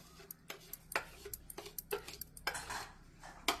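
Salt being stirred into freshly ground coconut paste for a jackfruit-seed aviyal, with a series of sharp spoon-on-bowl clinks and scrapes at an uneven rhythm, close and fairly quiet with no talking.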